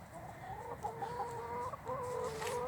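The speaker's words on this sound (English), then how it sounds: "the chickens just come running to you" A flock of chickens clucks nearby, several overlapping low, rhythmic bawks and murmuring calls over a soft outdoor background, with no speech.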